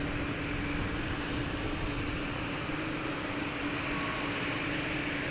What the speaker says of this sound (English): Next to come in is JetBlue coming in from Houston. An A220.